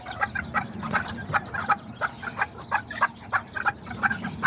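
Small chickens and roosters kept outdoors cluck in a steady run of short, repeated bursts, fairly close and continuous, with no talking.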